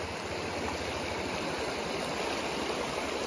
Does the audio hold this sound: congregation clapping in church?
no